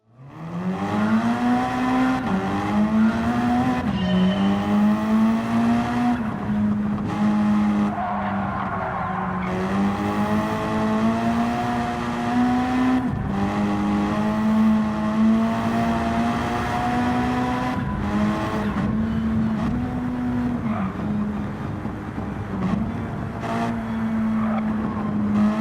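A Mitsubishi Lancer Group 3 race car in Gran Turismo 7, with a front-engine rear-drive turbocharged drivetrain, runs loud and close for the whole stretch, its engine note rising and falling through gear changes while the tires squeal almost continuously.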